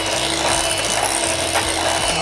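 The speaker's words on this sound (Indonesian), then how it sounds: "Kemudian aku akan mixer." An electric hand mixer whirs steadily and loudly, beating a crunchy cookie topping mixture for gluten-free cheese button cookies, with no talk over the continuous motor buzz.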